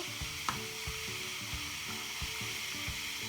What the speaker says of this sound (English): You can see they are actually frying in a nice way.